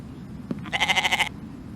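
Goat in The Infected bleats once in a short, wavering, pulsing call lasting about half a second, close and clear over a low ambient hum, preceded by a soft thud.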